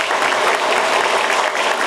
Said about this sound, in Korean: 박수를 크게 쳐야지